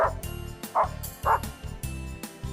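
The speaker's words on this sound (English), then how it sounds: "It's a dog." A dog barks three times at an even pace, each bark short and fairly close, over a steady low background hum.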